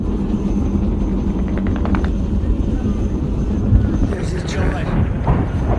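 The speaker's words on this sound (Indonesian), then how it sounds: "pesawat heli dari tim penyelamat pun akhirnya sampai" A rescue team's helicopter arrives in a war film about a feared Iraqi sniper, its rotor thumping steadily under a constant wash of engine and wind noise while a narrator talks over it.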